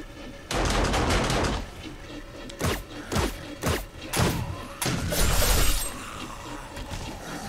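Automated turrets fire in the survival game 7 Days to Die during a blood moon, a sustained loud burst of shattering, glassy impacts followed by several separate sharp bangs and another dense rattling volley.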